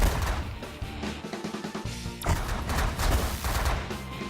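Gunfire in the space strategy game The Last Federation, a steady stream of rapid shots and impacts running throughout, fairly loud and dense with no speech over it.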